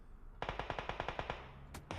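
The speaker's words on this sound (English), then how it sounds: "Taking fire from behind." Rapid automatic gunfire in PUBG Mobile, a burst of about a dozen evenly spaced loud shots followed by a couple of sharper cracks, with no talk.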